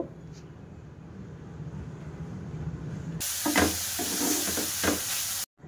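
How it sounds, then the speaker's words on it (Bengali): Kashmiri red chilli powder being stirred into chicken pieces in a pan, a low scraping mix that turns into a loud broad sizzle and hiss partway through with clattering stirs, then cuts off abruptly. "এই লাল লঙ্কার গুঁড়োটা বেশ ভালো করে চিকেনের সঙ্গে মিশিয়ে নেব।"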